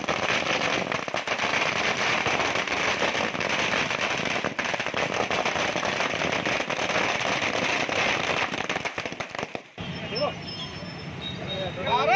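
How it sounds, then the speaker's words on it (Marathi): Firecrackers burst in a dense, nonstop crackling barrage for several seconds at a patriotic street celebration in Akola, then it cuts off, leaving only faint background noise. "फटाक्यांची आतिषबाजी करत देशभक्तीचा जल्लोष साजरा केला"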